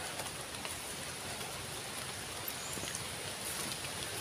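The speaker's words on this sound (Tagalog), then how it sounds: "Ayan na ang ulan." Rain falling steadily outdoors on a banana farm hillside, an even, continuous hiss of drops on surfaces, moderately loud, with no talking.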